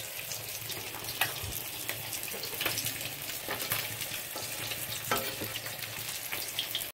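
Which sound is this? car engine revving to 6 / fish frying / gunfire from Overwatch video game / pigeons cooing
fish frying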